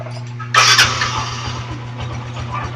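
A Bajaj CT 125 motorcycle, its camshaft and crankshaft timing freshly set, cranks and fires abruptly, then settles into a steady, close, low idle thrum.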